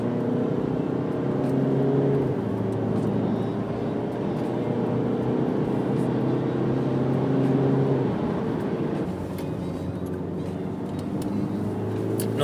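DS 7 Crossback 1.5 BlueHDi 130 hp diesel SUV on the move, a steady engine drone with shifting tonal hum and road noise heard from inside the cabin, continuous throughout.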